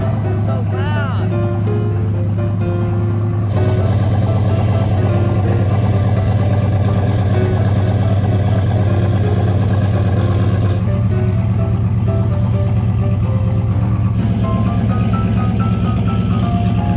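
A turbocharged Chevelle engine idles steadily around 1100 to 1200 RPM, a loud continuous rumble with a constant droning tone that holds throughout without breaks.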